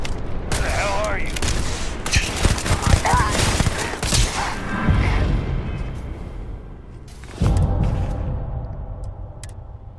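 Dense exchanges of gunfire in the video game Starfield, rapid overlapping shots and impacts forming a loud chaotic volley that thins out, with a voice calling out amid the shooting.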